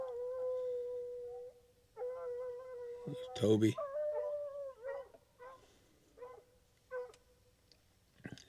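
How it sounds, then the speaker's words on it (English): Hunting dogs on a bobcat trail bay and howl in long, wavering cries with yips and whines between them, several voices overlapping at moderate distance, and a person briefly speaks among them. "There's 3 or 4 dogs barking in there."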